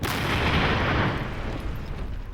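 A loud, broadband crash from a test explosion of an ancient-style bomb on a road, a sustained rumbling roar that fills the whole clip and slowly fades, with no voices.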